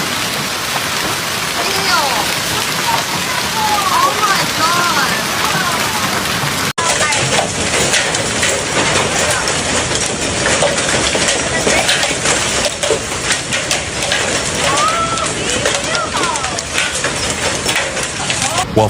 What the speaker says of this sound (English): chunks of ice the size of golf balls came crashing down from the sky